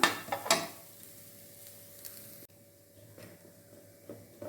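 Spinach thoran being stirred in a frying pan: a few scraping spoon strokes and light clatter at the start, then a soft, low sizzle with occasional scrapes, close and quiet.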